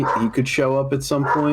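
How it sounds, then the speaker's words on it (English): Dogs barking indoors, a few sharp, loud yaps breaking in over a person talking nearby. "Sorry about the dogs."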